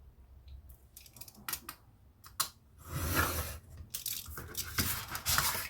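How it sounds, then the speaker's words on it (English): Scissors cut through paper for a junk journal folio, trimming a piece down to 8 inches: irregular snips and crisp slicing strokes close by, mixed with rustling paper handling. "So I'm just going to cut that down to 8 inches."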